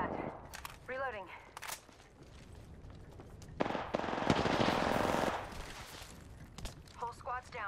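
Bursts of automatic gunfire in the Apex Legends battle royale game, with rapid rattling volleys and a long sustained stretch of firing mid-clip, mixed with game sound effects and footsteps.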